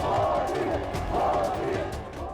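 Ottoman soldiers chant slogans for Sultan Mehmed, a massed crowd of voices rising and falling in repeated, rhythmic battle cries.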